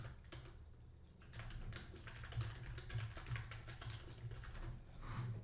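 Quiet rapid typing on a computer keyboard, a continuous patter of soft key clicks at close range with no talking.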